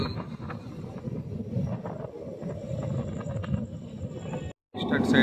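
The Tirupati–Puri Express picks up speed, and its wheels rumble and clatter steadily in a rhythm heard from inside the carriage. A short cut of silence comes near the end.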